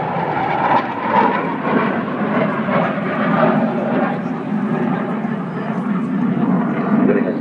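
A Tornado jet flies a missile-defeating manoeuvre, its engines a loud, steady, rumbling roar that never lets up, with a voice talking over it.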